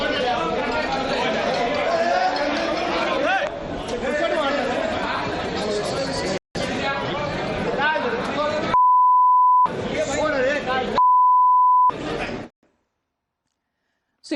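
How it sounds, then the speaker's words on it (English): Loud, overlapping chatter and shouting from a heated clash inside a state legislative assembly chamber, cut by two long steady censor bleeps, then sudden silence. "some areas that had to be beeped out"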